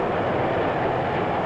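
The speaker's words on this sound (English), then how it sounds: "Freight cars behind its diesels." A steady, continuous rumble of a heavy diesel freight train from the 1950s rolling past, broadband and unbroken, with a low mechanical drone and no voices.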